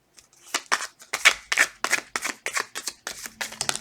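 Rapid crisp riffling of tarot cards being shuffled, a quick run of papery flicks close by.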